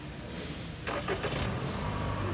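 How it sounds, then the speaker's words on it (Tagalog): A 2022 Lexus ES350 engine cranks and catches at about the one-second mark, then settles into a steady idle close by, with no talk over it. "Umaandar yung makina ha."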